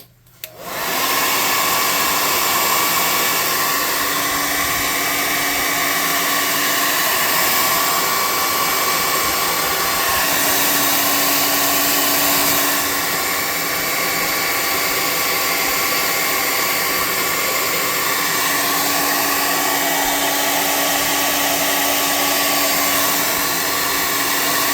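A hair dryer runs steadily on paint freshly brushed onto a tabletop miniature, a loud, close, continuous whirring hiss with a faint tonal whine, starting abruptly and holding nearly constant without talk.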